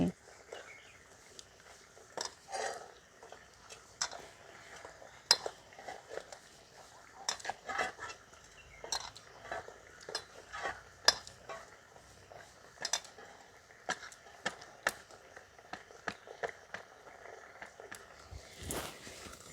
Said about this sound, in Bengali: একবার করে নাড়ছি আর একবার করে মাখতে আসছি